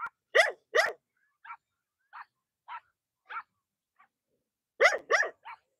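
Several dogs bark and yip while playing in a rural evening yard in Vietnam's Mekong Delta countryside, with a pair of loud close barks, a string of softer scattered yips, then another burst of barks near the end.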